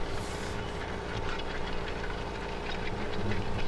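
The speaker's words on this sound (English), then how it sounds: "This is a seriously good tractor." A tractor engine in the video game Farming Simulator 2015 drones steadily, a loud continuous low rumble with a mechanical hum, alone without talk.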